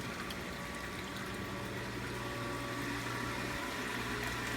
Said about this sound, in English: This is where it all starts, right here with the pump into a sand filter.